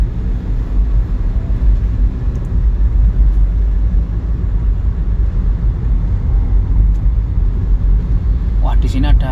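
Car driving along a road in Kediri in the late afternoon, a steady close engine and road rumble running throughout, with a brief sharper noise near the end.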